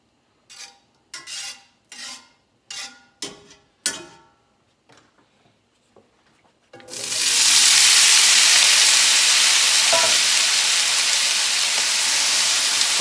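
Food drops into a hot pan greased with butter-flavored Crisco and breaks into a loud, steady sizzle and hiss. A series of sharp knocks and clatters comes first as things are set down.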